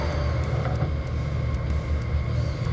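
A CNC machine reams holes in aluminum at close to 9,000 RPM, making a steady low mechanical rumble and hum with faint high whine, continuous and close.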